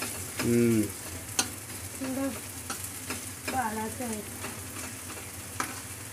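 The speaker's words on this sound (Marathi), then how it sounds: "तर काय कांदा फ्राय करते ती चांगल्यापणे" Onion frying in a pan for a Marathi-style snack of leftover chapati pieces, a steady close sizzle with stirring scrapes and a couple of sharp utensil taps, plus a brief voice-like hum early on.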